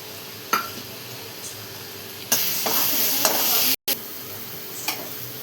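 Onion, turmeric, green chilies and garlic fry in a pan for a raw tomato chutney. A steady sizzle is broken by stirring scrapes and clinks, and louder frying flares up in the middle before the sound briefly cuts out.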